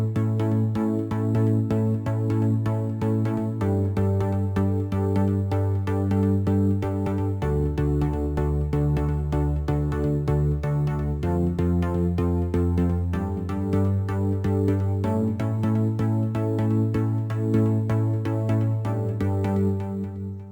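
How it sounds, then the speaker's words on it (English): Sustained, bright Spire synthesizer chords in a progressive trance style, holding steady and shifting to a new chord every few seconds, with no effects. No drums or voices, just a continuous loud pad. "Talamanca style chords for progressive trance or melodic progressive house"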